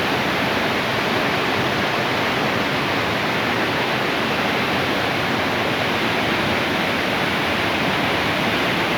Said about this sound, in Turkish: Evet şelale görüntüsü. Malet, Malatya Darende Şelalesi.